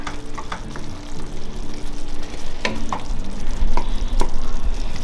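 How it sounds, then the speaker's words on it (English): The back of a spoon smashes and stirs soft caramel apple dip against a pan, producing repeated close scraping knocks and taps over a faint bubbling hiss, with no voices. "just take the back of your spoon and kind of just smash it against the pan"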